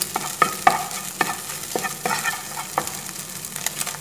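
A spatula scrapes and stirs green peas and egg thoran in a frying pan, with a steady soft sizzle beneath irregular, close tapping and scraping strokes.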